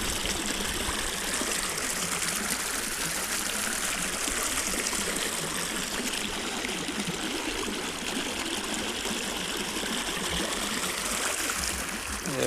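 Steady rushing of pipeline irrigation water pouring into a farm field, a constant dense wash with no pauses, close and fairly loud with no talking.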